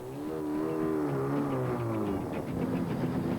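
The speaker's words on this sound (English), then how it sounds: "Already at half throttle, the full pressure of the turbocharger kicks in. The Supra takes off like a rocket and reaches shifting RPM within seconds." A Toyota Supra TRD race car accelerates hard as its turbocharger comes on, the engine note climbing steadily in pitch into a loud, sustained roar.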